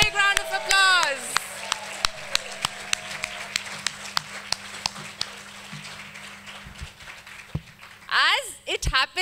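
At a graduation ceremony for a training batch, sparse, evenly spaced claps ring out faintly in a hall, more like a few people clapping than full applause. A voice speaks briefly at the start and again at the end.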